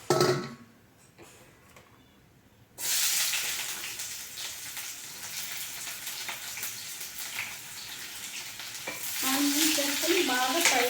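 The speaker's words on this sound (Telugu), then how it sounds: "ఆనియన్స్ వేసుకొని బాగా ఫ్రై అవ్వాలి" Onions dropped into hot oil for a village-style curry, a quiet stretch giving way to a sudden loud burst of sizzling that carries on with stirring scrapes toward the end.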